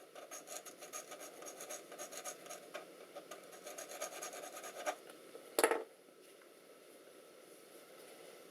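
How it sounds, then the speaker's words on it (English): Old thermal compound is scraped off an Alienware Area 51m laptop heatsink, making a quiet, close, rapid rasping rub that runs steadily for about five seconds, then one sharper scrape and near silence. "Let's just make sure we get that bit of old compound loosened up and off."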